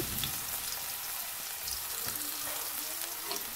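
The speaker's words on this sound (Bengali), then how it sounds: "আলু ভাজাটা ছেড়ে দেব।" Finely shredded potatoes frying in hot oil, a dense, steady hiss and crackle heard up close and unbroken throughout, with no talking.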